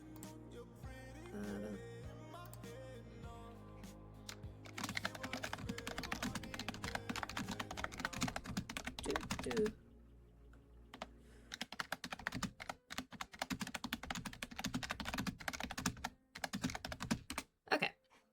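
Fingers clatter on a computer keyboard in rapid bursts of clicky keystrokes, close and quiet, pausing briefly before resuming quick tapping beside faint background music.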